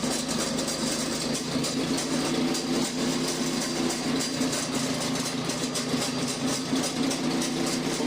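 A 1964 Oliver 550 tractor engine idles steadily, a constant low rumble with a faint rhythmic chug, close by and unbroken throughout.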